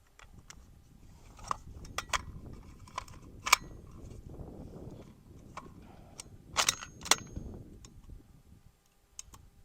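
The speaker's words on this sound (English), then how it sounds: "mag loading here." Cartridges being loaded into the magazine of a Savage 110 PCS bolt-action pistol, a quiet series of sharp metallic clicks and snaps at irregular intervals over faint handling rustle, close by, with no talking.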